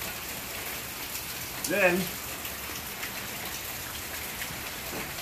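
Steady rain falls during a hammock and tarp setup outdoors, a soft continuous patter with a brief spoken word partway through.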